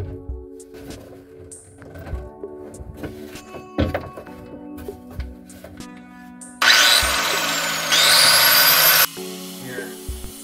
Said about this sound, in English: on the grinder to grind off the head of the screws